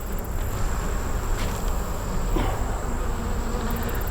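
Honey bees buzz steadily around an open hive during a beekeeper's inspection, a close, continuous droning hum with individual bees flying past the ear, and no talking.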